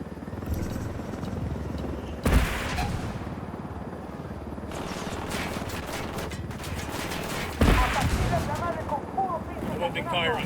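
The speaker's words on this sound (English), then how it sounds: "I'm opening fire on these shitheads." Gunfire in the Ghost Recon Wildlands game: sharp shots and bursts ring out over a constant helicopter drone, with two loud blasts standing out and voices talking between them.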